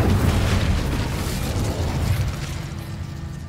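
Incendio fire spell cast in Hogwarts Legacy, a loud roaring burst of flame that starts at full force and rumbles on steadily, easing off slightly toward the end.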